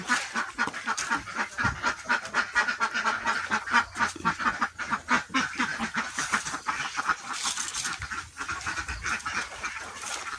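A flock of ducks quacks loudly and continuously as they are let out of their pen on a farm with aromatic coconut trees, with many overlapping calls close by and no talk.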